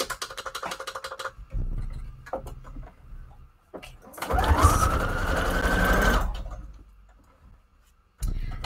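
A sewing machine running a straight stitch in short bursts, with a longer whirring run in the middle, separated by clicks, taps and quiet pauses close to the microphone.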